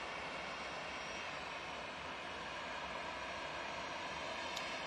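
A TUI Boeing 787-9 Dreamliner arriving at Manchester Airport from Cancun, giving a steady broadband jet roar that holds at a constant moderate level, heard from a distance with no voices.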